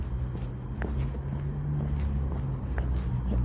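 Crickets chirp steadily outdoors beside a main road or highway, a continuous high trilling pulse throughout, with a low background rumble underneath and no talking.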